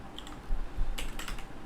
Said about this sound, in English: Typing test for old time's sake.